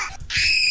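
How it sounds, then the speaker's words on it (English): Fred screaming audio played through a Roblox game server: a short, loud, shrill scream that cuts in and holds to the end. "Let's try the Fred screaming audio."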